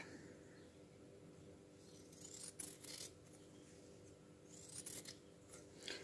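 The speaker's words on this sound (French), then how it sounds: "Je vais essayer de découper du coup." Scissors snip through a cappuccino box being cut for a decoration project, a few short, faint cutting sounds in a quiet room.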